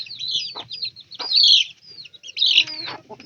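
A hen clucks near her six chicks, giving a few short close calls in separate bursts with thin high chirps mixed in, clear and fairly loud with no speech.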